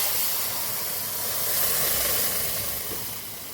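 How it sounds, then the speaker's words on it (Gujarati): Hot oil tempering with curry leaves poured into urad dal sizzles with a loud, continuous hiss that holds steady, then eases off slightly toward the end. "અહીં આપણે દાળનો વઘાર કરી દઈશું"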